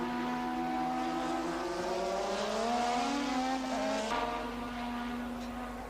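1988 Formula One cars racing, a McLaren Honda slipstreaming alongside a Lotus Honda: a loud, continuous high-revving engine whine with pitch shifting as the cars run side by side, sustained and close.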